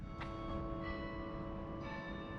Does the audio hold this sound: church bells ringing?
yes